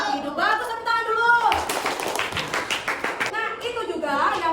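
Schoolchildren in an Indonesian classroom break into a short burst of applause after the teacher speaks, the clapping sounding fairly close and mixed with her voice and the chatter of the children.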